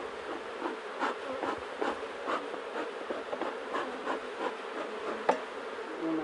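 Honeybees at an opened hive, a dense continuous buzz of many insects close by, steady in level with a few small swells and one sharp click.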